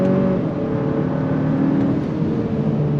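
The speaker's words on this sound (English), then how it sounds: "let's go on throttle again. You ready? On throttle. Fast shifts from that dual clutch." A 2025 Kia K5 GT turbo sport sedan pulls hard under throttle, its engine note rising steadily with quick dual-clutch shifts; a loud, continuous in-car drone with no talking.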